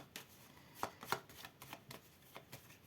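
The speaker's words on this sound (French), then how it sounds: "Alors, pour une fois, je vais utiliser le jeu de 32 cartes." A deck of 32 playing cards being shuffled and handled close by, with a run of soft riffling flicks and a few sharper snaps, quiet and alone with no talking.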